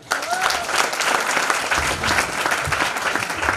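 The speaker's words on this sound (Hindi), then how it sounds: "इनके लिए जोरदार तालियां।" Dense, loud applause from an audience at a strength-building seminar, a continuous wash of clapping throughout, with faint voices underneath.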